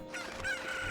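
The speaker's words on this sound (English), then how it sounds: "the chickens have all reset" A chicken in Ocarina of Time clucks and crows in a brief, loud burst with a rising, strained tone over dense game background noise.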